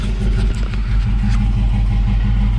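Chevrolet C10 squarebody truck engine running outside a garage, a loud, steady mid-pitched rumble with a close, even throb throughout.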